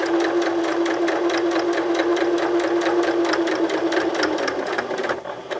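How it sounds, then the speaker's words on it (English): A sewing machine runs a long, steady straight stitch along the edge of a fabric pocket, its rapid needle rhythm close and continuous before slowing and easing off at the end. "I'm going to straight stitch all the way to the end"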